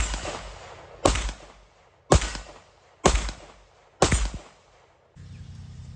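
Four evenly spaced shots of 9mm ZQI 124-grain rounds from a Rock Island STK100 handgun, each a loud sharp crack with a brief echoing tail, close by and without talk.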